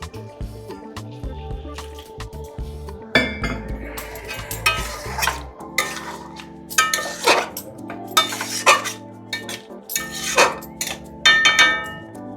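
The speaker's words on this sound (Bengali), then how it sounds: "মাংসটা কুকারে দিয়ে এবারে চাপা দেওয়া হচ্ছে" Mutton curry, braised in mustard oil with spices, is tipped with hot water into a pressure cooker and the lid is set on, giving close metallic scrapes, clanks of pot and lid, and stirring clatter in irregular bursts.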